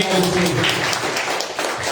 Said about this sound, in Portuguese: Aplausos a Ele